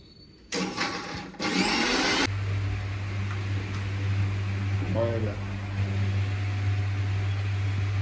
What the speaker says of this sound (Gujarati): મિક્સર ચાલુ કરે તો કઈ નહીં સંભળાય